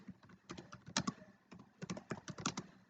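Quick bursts of typing on a computer keyboard, two clusters of close, crisp key clicks separated by a short pause, with no voices.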